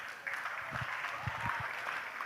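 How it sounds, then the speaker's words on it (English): Audience at an inter-school elocution contest clapping for teachers, a steady patter of moderate applause with a few louder individual claps close by. "Can we get a round of applause for our teachers?"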